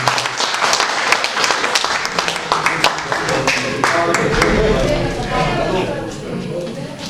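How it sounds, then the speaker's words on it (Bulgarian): Audience applause at a community cultural center meeting, a burst of many hands clapping that swells and then thins out, with a speaking voice over it. "аплодисменти"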